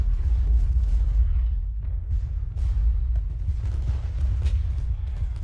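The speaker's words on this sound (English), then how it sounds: "If you turn the sound up on this, you can definitely hear all the cannon fire" Cannon and artillery fire in the Civil War strategy game Ultimate General: Gettysburg, a dense, continuous low rumble of overlapping booms that stays loud and steady throughout.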